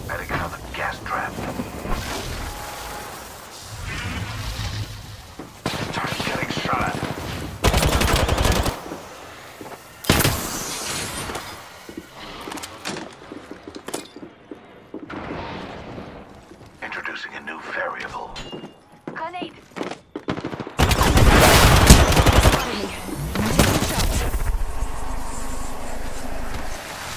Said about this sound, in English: taking fire. Getting shot at.